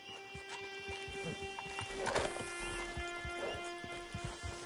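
A horse whinnies amid soft hoof sounds over a low background hum, fairly quiet.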